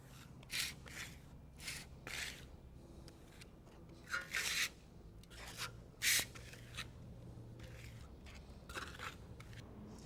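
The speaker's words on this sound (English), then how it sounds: "you lay your trawl flat, pull it up to form a slight suction, and it creates your texture" A trowel laid flat on drywall texture mud and pulled away with slight suction, making repeated soft scraping and rasping strokes in irregular bursts, fairly quiet and close, with no talking.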